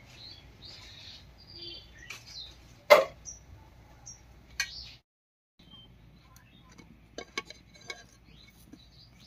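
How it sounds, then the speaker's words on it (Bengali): Brinjal slices flipped in a pan while frying without oil: scattered light clinks of a utensil against the pan, one sharp clatter near the start, then a pause and a few soft scrapes. "3-4 মিনিট হয়ে গেছে, এবারে উল্টে নেব।"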